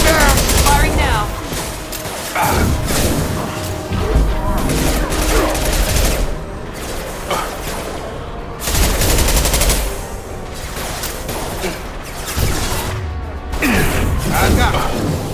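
Dense bursts of gunfire from a Mass Effect Legendary Edition firefight, loud and continuous with rapid volleys and brief lulls, under shouted in-game voices calling out targets.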